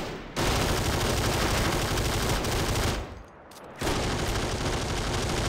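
Two machine guns firing in the World War II game Faces of War, a dense sustained roar of rapid fire that cuts out briefly and resumes loud and close.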